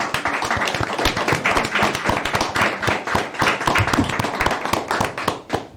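A crowd at a Gaithersburg city council meeting gives steady applause, dense overlapping claps filling the room at an even, lively level with a brief dip near the end.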